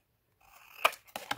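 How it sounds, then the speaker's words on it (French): Scissors snipping the corners off small pieces of cardboard for a custom gift box: a few sharp, close cuts in quick succession, with no talk. "on coupe les coins"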